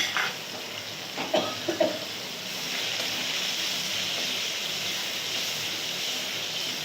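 Carrots and beans frying in a wok hiss in a steady, close sizzle, opened by a few clattering knocks of a spatula in the first two seconds before the frying settles into an even hiss.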